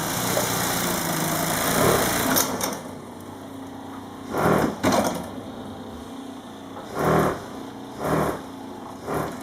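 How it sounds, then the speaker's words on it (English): A tape edge sewing machine runs along a mattress, binding a strip of fabric over the edge to seal it, giving a steady mechanical whir with several louder surges of motor noise, no talking. "And we do that with our tape edge machine, and that puts on this piece of fabric."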